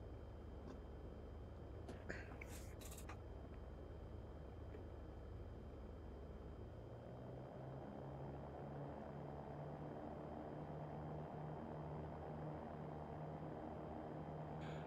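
A Cirrus SR20 propeller plane in X-Plane 11 runs up for takeoff, its steady engine drone rising in pitch and building into a stronger, tonal prop hum partway through, heard close and continuous with a few clicks early on.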